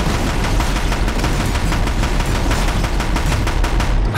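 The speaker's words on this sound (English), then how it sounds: "Oh, Deathbringer gun." The Deathbringer gun in Horizon Zero Dawn fires a loud, rapid, sustained stream of shots, an unbroken mechanical rattle dense with punchy bursts that fill the whole stretch without pause.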